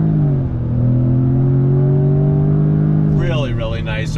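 A 2021 Jaguar F-Type First Edition accelerates out of a right-hand bend, the engine note rising loudly and steadily for a few seconds before a voice cuts in over it.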